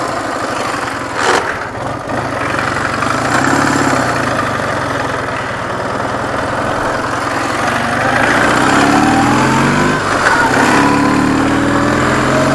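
A motorcycle engine runs loud and close as the ride starts, a steady drone that rises in pitch as it revs and pulls away, with no talking.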